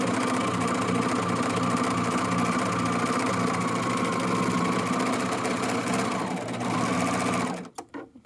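A serger sewing machine stitching and trimming the back panel of a fanny pack runs in a steady, fast mechanical whir for several seconds, then stops, leaving a few small clicks.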